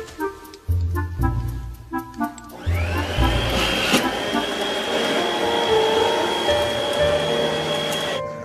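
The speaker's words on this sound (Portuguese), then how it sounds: "Acho que já dá pra passar o aspirador." A household vacuum cleaner starts up partway through and runs steadily at close range, a continuous whining motor roar with a high sustained tone, following some brief thumps and clatter.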